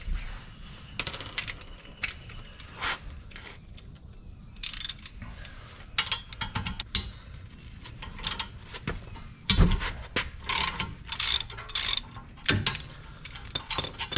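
Ratchet loosening the top bolt of a brake caliper on a 2018 Subaru Outback during wheel stud work, heard as bursts of clicking and metallic clatter scattered across the clip, fairly close, with no talk.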